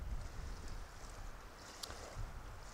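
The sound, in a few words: wind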